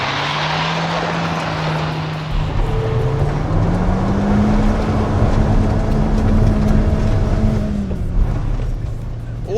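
Peugeot 206 engine droning loud and close as the car drives, its pitch sliding up and down through a long continuous pull with rough, gritty noise that fits wheelspin.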